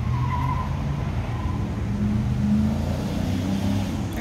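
Cars roll past a courthouse lawn at speed, a steady broadband traffic roar with low engine hum and faint tire noise that stays loud and continuous throughout.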